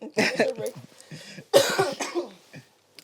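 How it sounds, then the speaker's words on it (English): A person coughs in a couple of sharp, close bursts, with throat-clearing sounds mixed in and a voice speaking around the coughs. "here comes the cough, guys"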